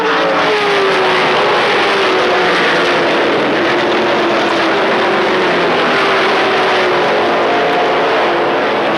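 Trans Am race cars from 1982 roar past at Laguna Seca, heading into turn 2, a loud continuous engine blare with shifting pitch as the pack sweeps by close.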